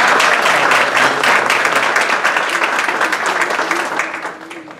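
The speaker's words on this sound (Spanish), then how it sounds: "Un aplauso para él, por favor." Audience applause at an awards ceremony, honouring Peru's Consul General: dense, loud clapping that holds steady, then thins and fades toward the end, with faint voices underneath.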